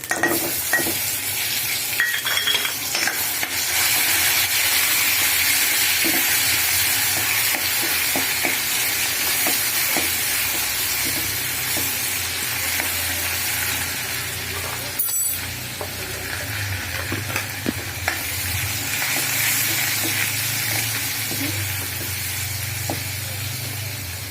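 Garlic paste fries in hot oil with cumin seeds in a pan, giving off a loud, steady sizzle and spatter up close that continues throughout, with occasional stirring clinks.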